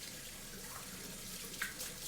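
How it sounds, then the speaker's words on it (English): Water runs from a tap during handwashing in a home kitchen, a quiet, steady splashing hiss with a brief light clink partway through, and no voices. "Just washing my hands."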